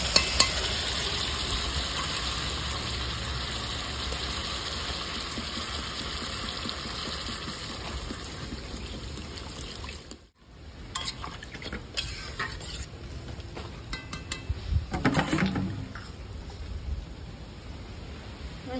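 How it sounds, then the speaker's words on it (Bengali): Bata fish curry with potato and papaya is cooked village-style: a steady scrape of stirring in a frying pan, a brief pause, then water poured in, which sends up a louder burst of sizzling and bubbling. "এবারে কিন্তু আমি জলটা দিয়ে দেবো।"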